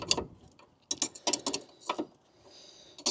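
Metallic clicks and ratcheting scrapes come in uneven close bursts as the coilover adjuster ring is turned on a Ford Fiesta ST180 with BC Racing coilovers.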